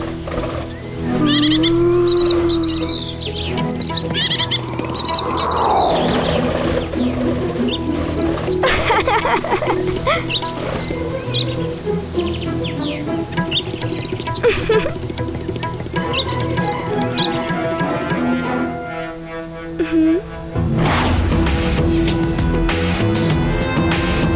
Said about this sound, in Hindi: इतने सुंदर पक्षी।